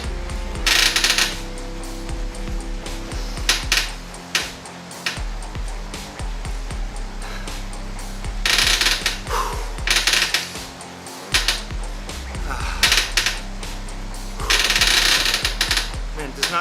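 A bicycle trainer rattles and clanks noisily during an indoor Zwift ride, with irregular metallic knocking and bursts of harsh grinding over a constant whirring drone.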